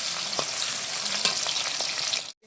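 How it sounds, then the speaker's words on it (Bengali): Capsicum sizzles and fries in a hot pan while being stirred for home-style fried rice, a loud continuous crackling hiss with occasional scraping knocks from the stirring, cutting off abruptly near the end. "এখন আমি ক্যাপসিকামটা দিয়ে দিচ্ছি। ক্যাপসিকামটা হালকা নাড়াচাড়া করে নেব।"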